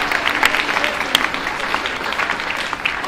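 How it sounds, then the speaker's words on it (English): An audience at a storytelling event bursts into lively applause, a close, dense patter of many hands with a few sharper claps, lasting about three seconds. "Clap it up for that."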